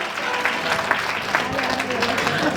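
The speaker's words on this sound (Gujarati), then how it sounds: "તાળી પાડો બેનો, તમારો હારો હારો." Women in a seated audience at a community tapas felicitation gathering clap together, a dense sustained patter of applause that carries on under a voice.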